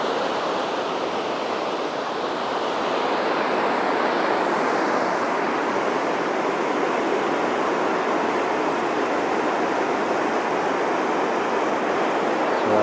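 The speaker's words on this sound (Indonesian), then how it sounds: "Suasana sungai yang begitu deras airnya guys." A fast-flowing river in a countryside village rushes in a loud, steady, broadband roar of churning water that holds constant throughout with no voices.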